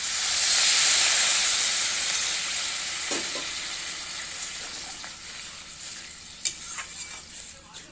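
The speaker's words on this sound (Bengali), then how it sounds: "এবার দিয়ে দিব গরম জল" Hot water poured into jackfruit cooked with spices in goat fat sets off a loud, steady sizzle and hiss that gradually fades and settles, with a few faint clinks of utensils near the end.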